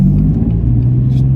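BMW M4 engine giving a deep, steady, loud rumble heard from close by, unbroken for the whole moment with no voices.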